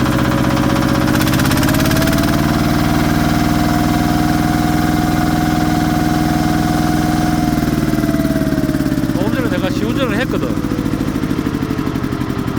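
A repaired farm machine's engine runs steadily at idle, a loud continuous droning hum with a slight pitch shift near the end, while a person talks over it.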